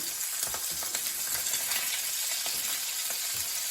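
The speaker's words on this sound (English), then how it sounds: "Make sure that there is ample butter with it, so that it actually has a nice chance of frying." Skin-on hake sizzles in a hot pan with ample butter, a steady close crackle with scattered pops and spits.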